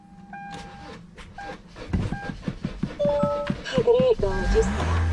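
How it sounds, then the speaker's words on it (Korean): A 2013 Kia Carnival R 11-seat diesel with a nearly flat battery is started: the starter cranks in quick rhythmic pulses before the engine catches and settles into a steady idle, close by, with a person talking over it. "시동 한번 걸어볼게요"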